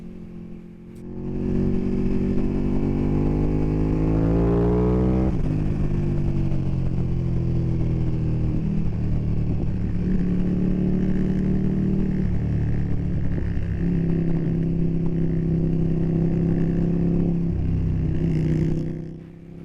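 Ducati Panigale V2 motorcycle engine, a 2020 model, revving up sharply then dropping through downshifts, with a loud, close, steady engine roar carrying rising and falling harmonic pitch sweeps throughout.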